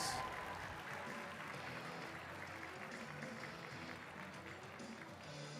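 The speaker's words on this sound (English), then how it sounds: "Round of applause." Audience applause at a model UN opening ceremony, a steady wash of clapping from a large crowd that holds at an even level throughout, with faint voices mixed in.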